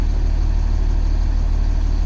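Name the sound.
school bus engine idling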